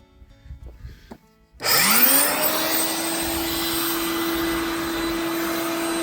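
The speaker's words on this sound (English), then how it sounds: "So let's fire up the shop vac." A shop vac switches on after a moment of faint rustling, its motor whining up in pitch and then holding a loud, steady roar.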